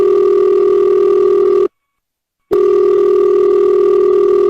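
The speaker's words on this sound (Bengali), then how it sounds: "রিং হচ্ছে কিন্তু ফোন উঠাইতেছে না যে?" A telephone ringback tone on an outgoing call to a house worker who isn't answering, a loud steady electronic tone in two long bursts with a short silent gap between them, no talk over it.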